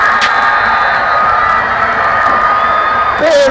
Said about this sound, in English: That has lit this crowd up.